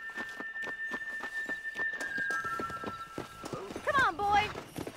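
Steady clip-clop of horse hooves during a ride in Red Dead Redemption, a regular rhythm of close hoofbeats under continuous talk, with a whinny near the end.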